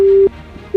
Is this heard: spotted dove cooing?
no